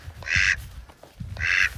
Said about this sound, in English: Okay, so Mr. Duck here